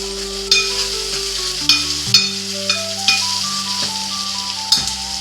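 Onions and green chillies frying in a pan for a mixed curry of drumstick flowers, mango and brinjal, a steady sizzle close by with several sharp scrapes and clinks of stirring, under steady tonal background music.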